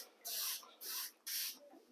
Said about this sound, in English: spray it directly on the cloth,